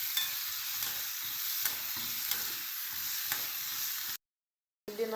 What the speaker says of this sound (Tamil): சேர்த்து நல்லா வதக்கி கொள்ளலாம்.